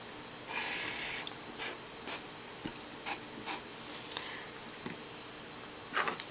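Pen or marker strokes drawing a diagram by hand during a lesson on electromagnetic waves, a series of short, close scratching and rubbing marks with pauses between them and no talk.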